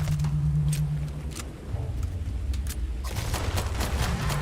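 Pistol shots in the video game Starfield, a few sharp reports spaced across the clip over a low steady game hum, with a denser cluster of shots near the end and no talk.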